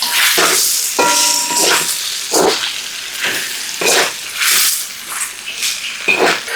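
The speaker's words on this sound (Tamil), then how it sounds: "அடுத்ததாக வெங்காயத்தை போட்டுக்கிறோம் இதையும் மிக்ஸ் பண்ணிக்கிறோம்" Onions tossed into frying chicken for devilled wings: a loud, continuous close sizzle that swells repeatedly as the pan is stirred and mixed.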